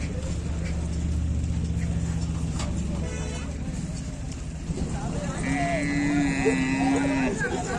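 Bulls being led on foot toward a crowded village bull gathering ground give a long, low, wavering moo near the end, over steady engine rumble and people talking nearby.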